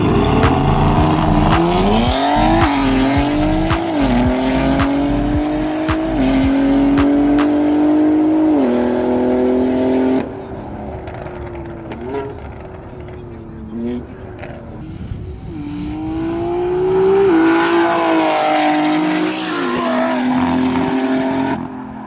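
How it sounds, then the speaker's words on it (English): Drag-prepared car doing a burnout on its rear tyres, the engine loudly revving in repeated rising and falling surges for about twenty seconds, with people talking nearby. "Are you going to do a burnout for us?"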